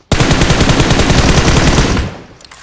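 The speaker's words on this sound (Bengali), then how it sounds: "এই যে বট ফায়ার দিচ্ছে।" Rapid automatic gunfire from a bot in a video game, a loud, dense burst of shots lasting about two seconds before cutting off abruptly, heard alone without voices.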